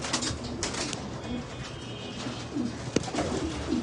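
Several pigeons coo inside a room, low rolling calls overlapping with occasional wing flaps and light rustling, close and steady.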